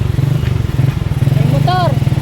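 A motorcycle engine putters close by with a throbbing low rumble at a village fiesta in Camarines Norte, while people talk over it.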